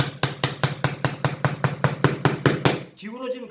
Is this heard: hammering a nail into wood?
yes